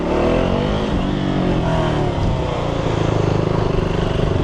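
A single-cylinder learner-class motorcycle, a thumper with an aftermarket exhaust, revs close by, a loud dense engine roar that rises and holds with a pulsing throb throughout.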